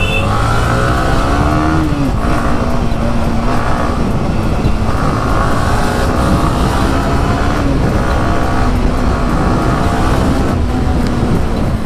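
A TVS motorcycle roars past, its engine revving and shifting pitch in repeated surges. The sound is loud and continuous, with road and wind noise and no talking.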